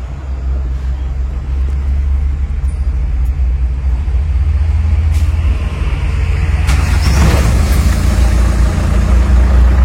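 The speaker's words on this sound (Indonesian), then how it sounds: "kita panasin dulu biar nggak kaget mesinnya" Diesel truck engine idles steadily while warming up, a loud, close, continuous low rumble with a slight rise in intensity near the end and no speech.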